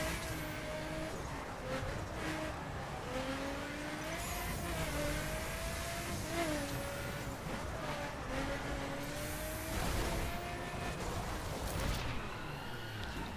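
A sports car engine revs and accelerates in The Crew during a circuit race, a continuous roaring drone with pitch rising and dropping as gears shift, close and loud with occasional tire squeal.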